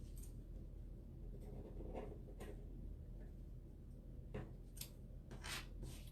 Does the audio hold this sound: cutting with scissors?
yes